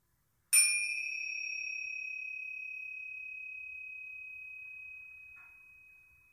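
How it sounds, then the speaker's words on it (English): A single meditation bell is struck once, ringing out with a clear, pure tone that sustains and slowly fades over several seconds in an otherwise silent space. "And we invite the sound of the bell to begin our meditation."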